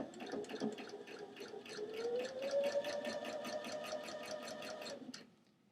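Sewing machine running a straight stitch to hem lace onto a t-shirt sleeve: a quiet, rapid mechanical chatter of regular needle strokes for about five seconds, the motor pitch rising slightly, then stopping.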